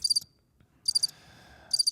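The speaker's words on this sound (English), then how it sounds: "That was crickets." Crickets chirping in three short bursts, each a rapid pulsed trill, with quiet gaps between them and faint background noise.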